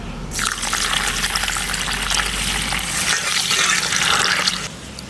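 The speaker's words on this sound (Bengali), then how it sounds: "আমি সবার প্রথম গোবিন্দভোগ চালটা জল দিয়ে ভালো করে ধুয়ে নেবো।" Running water pours steadily while Gobindobhog rice is washed for khichuri, a loud continuous splashing gush that starts abruptly and runs nearly five seconds before cutting off.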